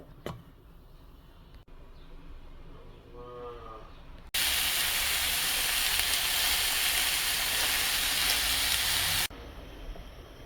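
Black cumin seeds land in a hot pan and sizzle loudly for about five seconds, cutting off sharply; quieter kitchen sounds and a brief spoken voice come before and after.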